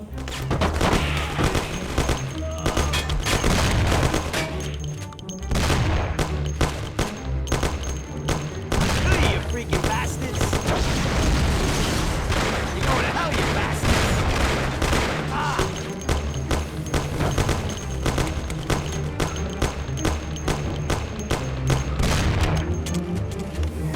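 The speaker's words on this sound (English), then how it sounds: "People start shooting." Dense, sustained gunfire in the Mafia video game, rapid overlapping shots and booms crackling continuously for the whole stretch, with a voice briefly heard under the barrage.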